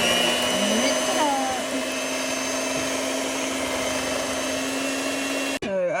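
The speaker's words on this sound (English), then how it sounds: "So after I mix it up with a hand mixer, we have this consistency right here." A hand mixer whirs steadily through cooked apples for apple butter, a close, constant motor hum with a slight pitch dip near the start, then it cuts off abruptly near the end.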